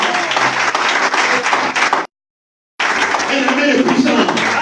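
A church congregation loudly acclaiming and applauding, with dense clapping and mixed shouting voices, close and sustained, broken by a short silent gap in the middle.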